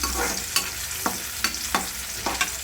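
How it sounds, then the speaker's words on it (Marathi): Onion sizzles steadily as it fries in a pan, with regular scraping stirs about every half second. It is close and clear, with no voices. "कांदा भाजायला टाकलेला आपण"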